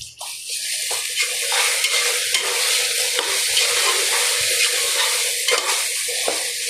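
Chopped onion frying with salt and garlic in a pan, a loud continuous sizzle with repeated scraping stir strokes, close up and without talk.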